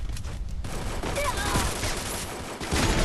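Rapid gunfire in the Free Fire video game, a dense continuous burst of shots heard loud and close, mixed with in-game effects and a faint voice beneath.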